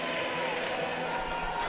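Crowd at a Trump rally, a dense wash of distant cheering and shouting voices, continuous and muffled for under two seconds.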